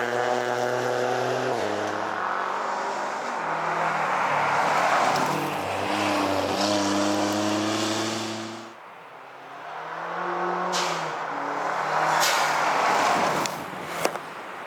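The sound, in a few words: rally race cars passing on a stage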